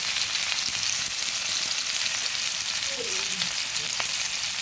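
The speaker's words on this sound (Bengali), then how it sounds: "নুন হলুদ দিয়ে ভালোভাবে নেড়ে চেড়ে ভেজে নেব।" Cauliflower and potato pieces fry in a pan with salt and turmeric for a pabda fish curry, giving a steady, close sizzle with faint stirring scrapes and no voices.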